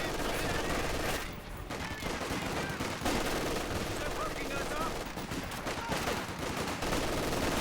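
Machine gun fire from a Company of Heroes match rattles on steadily at moderate volume, mixed with other battle noise, with no clear voices over it.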